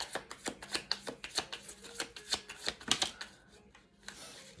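Playing cards are drawn and shuffled close by, in a quick run of crisp, papery flicks and snaps that are quiet overall and thin out toward the end.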